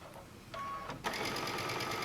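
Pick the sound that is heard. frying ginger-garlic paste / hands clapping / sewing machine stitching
sewing machine stitching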